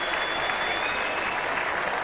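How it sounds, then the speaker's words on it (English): A cricket crowd claps and cheers loudly at a boundary, giving a dense, steady wash of applause from a large audience. "And that's getting him cheering a bit."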